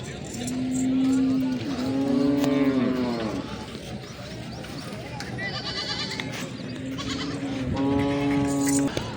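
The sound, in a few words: Beetal goats bleating at a livestock market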